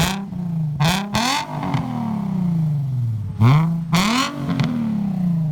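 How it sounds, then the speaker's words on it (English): A 2007 Nissan 350Z with an Invidia cat-back dual exhaust revs loudly and close, giving several sharp throttle blips that each fall back to a steady, droning idle. "Sounds really good. It's a 2007 350z Nissan."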